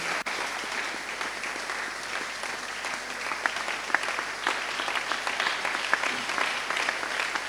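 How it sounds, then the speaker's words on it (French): A church congregation applauds during a Sunday service, steady dense clapping from a crowd, loud and continuous throughout, with a few sharper individual claps and a faint voice underneath. "Acclamons Dieu, s'il vous plaît."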